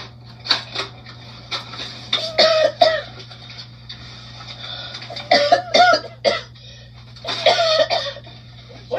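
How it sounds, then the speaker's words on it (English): A person coughs repeatedly in short bursts scattered across the clip, with brief throat clearing, close and fairly loud over a steady low hum. "Boy, I'm coughing."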